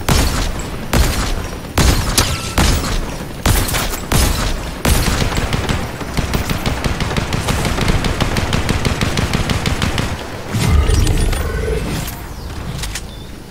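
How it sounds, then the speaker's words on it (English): Gunfire aimed at players in a battle royale duos match, heavy bursts of rapid automatic fire mixed with single sharp shots and booms, loud and near, rattling on almost without pause. "Someone's taking shots at us."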